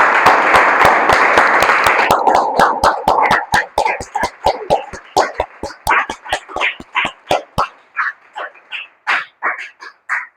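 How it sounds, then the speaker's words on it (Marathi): A church congregation claps for Jesus in a steady, rhythmic beat of many hands. The claps open under loud crowd noise and then carry on clearly with a few voices around them. "आपण सगळे येशूसाठी टाळ्या वाजवू."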